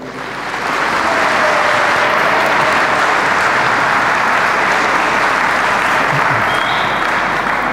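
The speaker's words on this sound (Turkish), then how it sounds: "bir kez daha alkış rica ediyorum" An audience at a lecture in Turkey applauds, steady dense clapping that rises within the first second and holds loud and even to the end.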